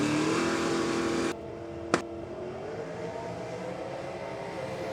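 A V8 drag race car launching down the track at an Australian race night, a loud engine roar that cuts off abruptly partway, followed by a brief sharp bang and then a quieter, sustained engine drone.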